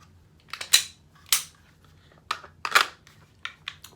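A Glock 19 pistol is handled for a safety check, a run of sharp metallic clicks and slide snaps, close and distinct with short gaps between them and no talking.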